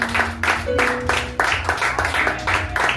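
Congregation at a church service applauding and acclaiming the Lord, a steady wash of many hands clapping with crowd noise and a few sustained voices rising through it for several seconds.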